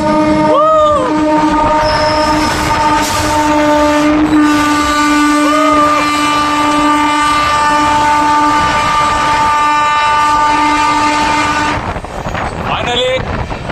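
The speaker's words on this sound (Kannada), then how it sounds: "ನೋಡ್ರಿ ಸಾಂತ್ರಾಗಂಜಿಂದ ತಾಮ್ರಮ್ ಹೊರಡುವ ಅಮೃತ್ ಭಾರತ್" A loud, long horn from an Amrit Bharat Express train departing Santragachi for Tambaram blares nearly continuously with a harmonic drone, then cuts off near the end as wind rushes past the microphone.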